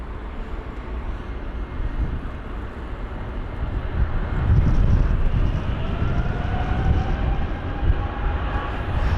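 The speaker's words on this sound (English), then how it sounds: "We've got United lining up on the runway now. That's going to be a 777-200ER heading to San Francisco." A United Boeing 777-200ER on the runway at London Heathrow in stormy weather, heard as a steady, broad, low jet roar that swells midway and holds, with wind buffeting the microphone.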